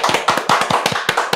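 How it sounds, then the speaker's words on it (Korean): Studio audience and hosts clapping at the opening of a Korean pop-culture talk show, a short burst of sharp, distinct claps, loud and close, with no talking. "박수!"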